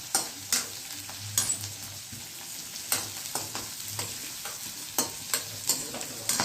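Bay leaf crackling in a ghee and oil tempering for a Gujarati potato curry, a steady sizzle with sharp spoon-and-pan clinks and stirring scrapes recurring throughout, close and alone without voices.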